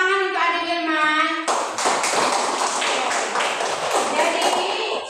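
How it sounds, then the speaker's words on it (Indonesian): Applause from a classroom group of children and a teacher during a Catholic religious education lesson in Merauke, a dense burst of clapping lasting several seconds after a sung or spoken tone ends. "Kita tepuk tangan untuk Adik Wilman."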